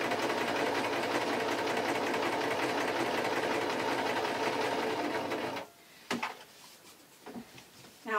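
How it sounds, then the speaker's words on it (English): A sewing machine stitches a taffeta seam for a baby party dress, running in a steady, close mechanical rattle for over five seconds before stopping, followed by soft fabric handling clicks. "I'm going to sew the top seam first so that I can do a facing seam"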